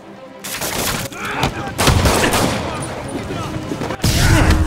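Dense, loud gunfire fills a Spider-Man PS4 video game fight, rapid shots and bursts overlapping in a continuous barrage with brief dips between volleys, close and intense.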